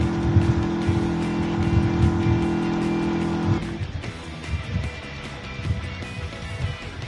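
A race car in Gran Turismo 7 braking hard into a turn: a steady engine drone and tire squeal cut off sharply midway, giving way to rougher, scrubbing tire and engine noise, loud and close with no voices.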